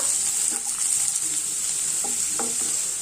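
Chopped onions are stirred into hot oil in a pan, a steady sizzle with a few soft stirring scrapes and clicks over it.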